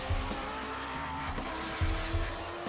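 Drag racing cars roar at the Texas 2K event at Houston Raceway Park in Baytown, Texas, a loud sustained engine blare with brief bursts of tire noise, dense and continuous.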